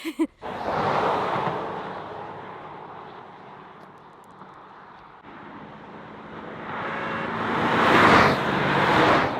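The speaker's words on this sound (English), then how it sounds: "There's a taxi coming." A taxi approaches along a road in Portugal, its engine and tire roar building steadily from a distant wash of traffic to a loud close pass, with wind buffeting the microphone throughout.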